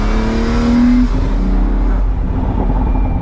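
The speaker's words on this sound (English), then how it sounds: "that roof scoop noise right behind your head" Ferrari SP3 engine roaring through the roof scoop intake right behind the driver's head, a loud close wail that climbs in pitch then drops back as revs fall, over a steady low drone.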